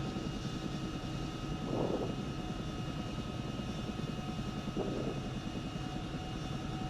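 Aircraft engine at idle throttle in the military simulation game ArmA 3, a steady low drone with a faint, continuous hum throughout and two brief swells, no talking.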